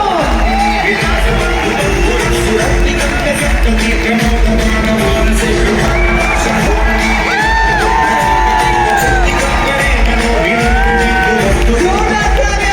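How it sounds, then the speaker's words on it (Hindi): A large crowd at a business rally in Delhi whoops, yells and cheers loudly and continuously, with shouted voices rising over the din throughout. "जोरदार तालियां, everybody."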